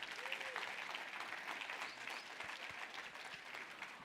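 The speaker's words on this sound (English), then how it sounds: "Huge round of applause." Audience at an annual business meeting applauding, a steady, even patter of clapping held at a moderate distance throughout.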